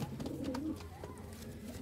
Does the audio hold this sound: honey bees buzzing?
no